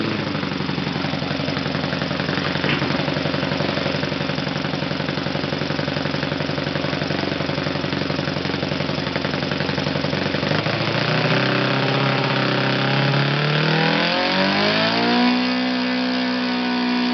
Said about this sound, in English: So let's start the engine again.